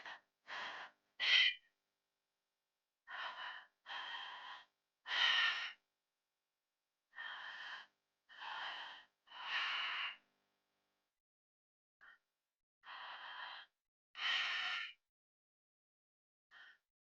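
Deep breaths taken during an active breathwork meditation, a series of loud, slow inhales and exhales in irregular bursts separated by short silences, close and alone with no talking.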